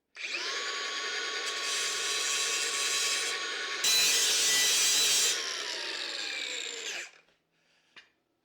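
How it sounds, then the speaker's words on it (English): A handheld power tool grinds and cleans steel square tubing before welding, a loud continuous abrasive whine that grows harsher midway, then cuts off and leaves a few faint knocks. "I got to clean this square tubing up"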